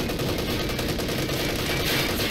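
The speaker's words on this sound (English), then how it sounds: "the first shell of the Panzer IV has bounced off the armor of the Sherman" Sherman and Panzer IV tanks trade fire in Company of Heroes 2, a dense, continuous barrage of cannon and gunfire with no pauses, loud and steady throughout.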